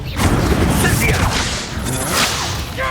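An Incendio fire spell cast in the video game Hogwarts Legacy, a loud whooshing burst with crackling, sweeping swells that fade over a few seconds, close and forceful.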